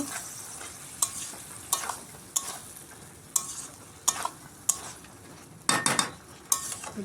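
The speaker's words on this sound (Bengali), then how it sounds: "এবারে এই ভাজাগুলোকে সব একটু দিয়ে দেবো। দেওয়ার পরে একটু ভালো করে নেড়ে নেব।" Fried pieces tipped into a bubbling spice masala in a pan and stirred, with a soft sizzle beneath repeated sharp scrapes and clinks of a utensil against the pan, one louder burst near the end. No one speaks.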